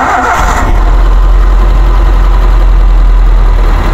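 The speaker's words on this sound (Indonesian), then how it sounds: "Suara mesin masih enak, starternya oke, tidak ada kendala." A 2012 Suzuki Carry pickup truck's small engine cranks briefly and catches, then settles into a loud, steady low idle that runs on alone.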